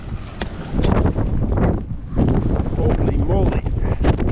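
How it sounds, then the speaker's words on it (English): Strong wind buffets the microphone on an exposed hillside slope, a loud continuous rumble that gusts and swells, while a person speaks and breathes over it. "How much wind's blowing."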